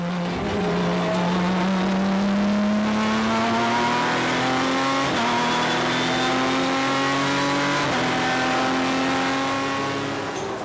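Race cars drive on the track during the 24 Hours of Dubai 2008 endurance race, a loud continuous engine drone with rising and shifting revs as the cars accelerate and pass, steady and close throughout.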